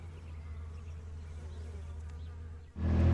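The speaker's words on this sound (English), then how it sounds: "You can literally hear the bees everywhere." Bees buzzing around blooming collard greens, honeybees and bumblebees among them, a steady low drone that is soft and somewhat distant, ending in a sudden louder rush of noise.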